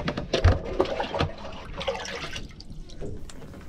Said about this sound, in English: Here I am removing water from under the bilges